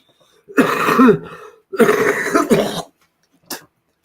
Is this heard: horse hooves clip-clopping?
no